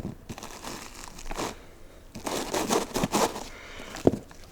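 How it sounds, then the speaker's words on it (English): Scissors cut sandpaper scraps in short bursts of rough, crackly rasping and crinkling that come close together, with a sharp snap near the end. "just cut them out with the scissors here"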